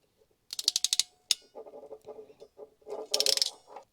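Wires are crimped into a heat-shrinkable butt connector on a fuel pump hardwire kit, heard as a quick run of sharp ratcheting clicks, a lone snap, then softer clicking and another rapid clatter, close and fairly quiet.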